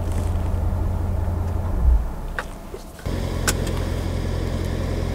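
2019 Chevrolet Corvette Grand Sport coupe 3LT, a C7 front-engined sports car, on a test drive: a loud, deep engine rumble that drops away briefly and then returns steady.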